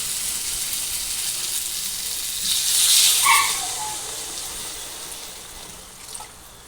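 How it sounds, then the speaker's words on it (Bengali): Water poured into a frying pan of fish head in a Bengali kitchen, setting off a rising hiss and bubbling sizzle that swells mid-clip and then settles, with no talking. "এভাবে কিছুক্ষণ ভাজার পর পরিমাণ মতো আমি জল দিয়ে দিলাম।"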